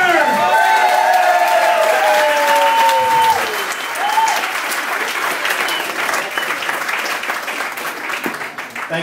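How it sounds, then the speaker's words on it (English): Loud applause and cheering from a comedy club audience at the Dubliner in Copenhagen, greeting a first-time stand-up comic, with whistles and shouts over dense clapping that stays strong throughout, easing slightly toward the end. "A big applause, Mr."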